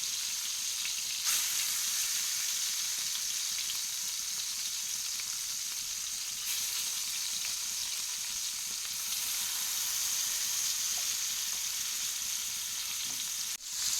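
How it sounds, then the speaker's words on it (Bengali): Shrimp fry in hot oil in a saucepan, giving a steady, close sizzle and hiss that holds throughout with no talking. "সেই চিংড়ি মাছগুলো নিয়ে ভেজে নিচ্ছি এক এক করে"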